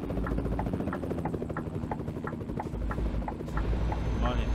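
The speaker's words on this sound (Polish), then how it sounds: "Helikopter." Helicopter in the driving game Euro Truck Simulator 2, a steady rhythmic rotor chop with engine drone that holds at moderate loudness throughout.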